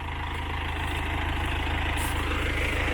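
New MTZ-892.2 tractor running steadily during hay baling with a Sipma Z-224-1 baler, a constant close diesel rumble with a fine rapid low pulse, loud and unbroken, no talking.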